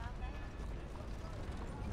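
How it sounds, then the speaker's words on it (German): Horse hooves clip-clopping in a Western-style video game, a quiet, rapid steady rhythm of hoofbeats with a low rumble beneath, lasting only a couple of seconds. "So, Pferd."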